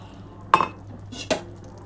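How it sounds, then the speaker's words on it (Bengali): A lid set on a cooking pot of potato and cauliflower curry: two sharp metallic clinks about three-quarters of a second apart over a quiet low hum, close and clear, without speech. "একটু গরম মশলার গুঁড়োটা দিয়ে নাড়াচাড়া করে আমি ঢাকাটা দিয়ে দিচ্ছি।"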